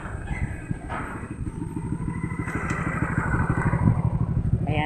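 A small motorcycle crosses a hanging footbridge in Malbugon, Libmanan, Camarines Sur, its engine putting steadily over a rattling clatter of the bridge planks and growing louder as it approaches.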